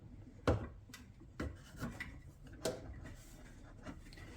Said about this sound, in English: So let's take this old belt off of here.